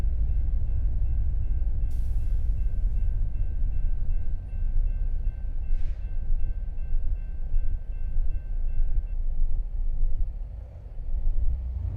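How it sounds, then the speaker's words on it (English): A freight train passes in American Truck Simulator, a heavy continuous low rumble of rolling rail cars that stays close and loud throughout, with a steady faint tone and brief higher clanks over it. "Ooh, train."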